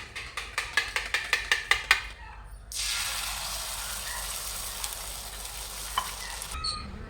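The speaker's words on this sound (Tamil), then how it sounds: "இப்போ வந்து வான்கோழி முட்டை கலக்கி போட்டுக்கிறேன்" A Tamil home cook makes turkey egg kalakki in a pan, first tapping or stirring in about ten quick sharp strikes, then the pour landing in hot oil sets off a loud, steady sizzle with a few clinks.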